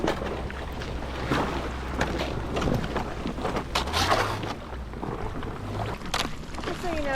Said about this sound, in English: Just so you know, Shelly, I'm the only one paddling back here